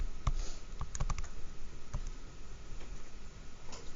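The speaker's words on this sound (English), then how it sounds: "You're just typing it into the calculator" Numbers are tapped into a calculator in quiet, irregular plastic key clicks, a few quick bursts followed by sparser taps over faint background hiss.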